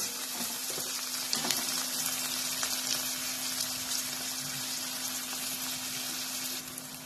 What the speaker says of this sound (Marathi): हे पहा, या ठिकाणी कांदा आणि टोमॅटो चांगला भाजलेला आहे.